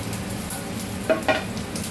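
Ginger, shallots and garlic sautéing in a pan for a Kerala fish curry, a soft steady sizzle with a couple of brief stirring scrapes near the middle.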